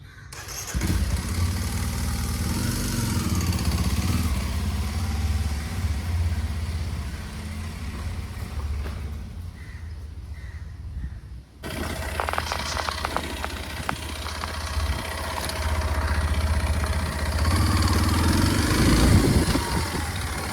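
A Kawasaki KLX230 dirt bike engine runs loud and close, a steady mid-pitched drone with rev changes and a brief break partway through before it settles back into idle and throttle blips.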